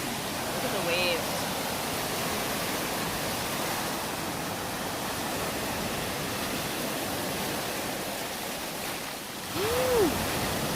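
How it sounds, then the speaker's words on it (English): Waves wash against Lake Superior's rocky shoreline as a steady broadband roar, constant and fairly loud, with a faint whistle-like sound briefly audible over it. "Look at the waves."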